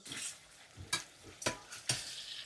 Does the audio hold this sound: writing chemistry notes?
no